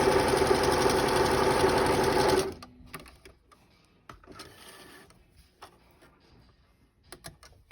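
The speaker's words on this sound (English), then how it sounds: "Just go ahead and sew both ends." A sewing machine stitches across the ends of a fabric face mask in one loud, steady mechanical whir of about two and a half seconds, then stops, leaving faint handling clicks and rustles.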